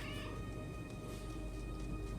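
A cat in a television drama meows faintly against a dense, steady background of broadband noise and soundtrack tones, a short mewing cry near the start.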